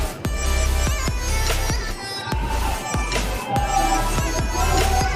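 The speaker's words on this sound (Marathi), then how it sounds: "मागच्या गॅलरीत बघा फटाकड्यांचा आवाज येत होता म्हणून मी बाहेर आले" A neighbour's firecrackers go off in a string of sharp, loud bangs, roughly a dozen irregular cracks over a few seconds, echoing around an apartment gallery over a steady background hum.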